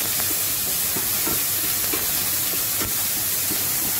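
Smoked lardons fry in a pan on an induction hob, giving a constant close sizzle and hiss with light stirring clicks and scrapes throughout. No one speaks.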